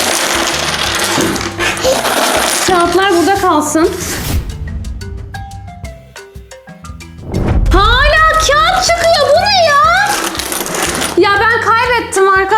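Coins clatter and jingle as they pour out of a broken elephant piggy bank in bursts, with a pause in between, while people talk excitedly over the noise.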